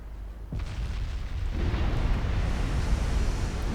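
Heavy battleship main guns fire in a 1925-era naval battle game, a loud boom at the start followed by a sustained rumbling roar of blasts and shell noise, with no voices.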